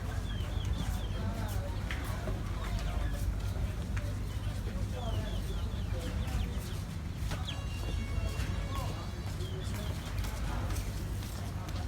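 Chickens cluck and squawk at a livestock and produce yard in Al Wakrah, Qatar, repeated short calls over a busy, steady background of crowd noise and talking.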